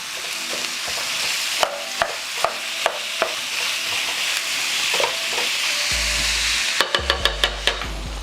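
Ground meat sizzling steadily in a hot non-stick pan, with a spatula scraping and tapping against the pan at a regular beat and a quick run of sharper taps near the end.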